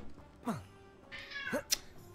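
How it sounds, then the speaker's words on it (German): Two cats meow in the video game Hogwarts Legacy, each a short rising-falling cry about a second apart, fairly quiet against a soft in-game background with a brief sharp click near the end. "Was ist denn los, Katzen?"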